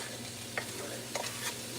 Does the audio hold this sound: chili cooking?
yes